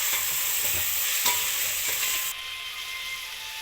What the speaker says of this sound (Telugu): ఫ్రై అవుతున్నాయండి, చూడండి.